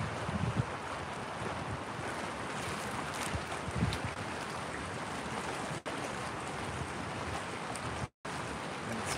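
Big ocean waves breaking near shore where people swim and fish, a dense continuous roar of surf mixed with wind buffeting the microphone, loud and unbroken.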